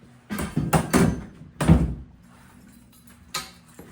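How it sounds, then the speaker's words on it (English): A fire truck compartment door swings shut onto a chock restraint strap girth-hitched to an anchor strap, giving a few close, solid thunks and a final soft knock with no voices. "And then we allow the door to close, which will engage the full jam."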